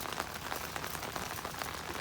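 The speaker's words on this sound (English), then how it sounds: "Rain, go away." Steady rain falling outdoors at a rainy Brimfield antique market, a dense, even hiss of drops pattering on surfaces throughout, close and continuous with no voices.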